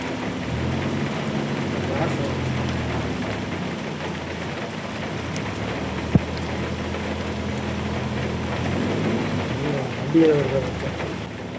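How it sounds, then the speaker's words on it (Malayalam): Heavy rain pours steadily at night on a ride in Valparai, a dense continuous hiss of drops on surfaces with a single sharp knock, and people speak intermittently over it. "നല്ല മഴ കേട്ടോ"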